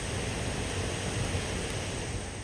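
The flooded Santa Catarina river in Monterrey, Nuevo León, swollen by a storm, rushes in a loud, continuous broadband roar with no pauses and no voices.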